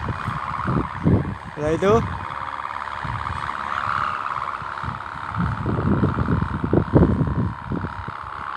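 A sendaren hummer on a flying kite whistles in the wind, a steady sustained droning tone running beneath intermittent talk and outdoor noise.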